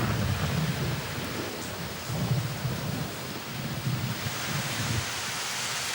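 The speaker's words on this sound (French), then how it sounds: "Mais ce soir-là, l'orage menace." A thunderstorm over New Orleans brings a steady hiss of heavy rain and low rolling rumbles of thunder that swell and fade several times, loud and enveloping.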